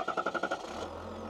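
A 2023 Chevy Silverado 1500 Trail Boss with a 3.0L Duramax diesel starts up: a quick rhythmic burst of starter cranking, about six beats, then the engine catches and settles into a steady low idle.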